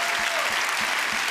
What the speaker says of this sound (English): you could clap for that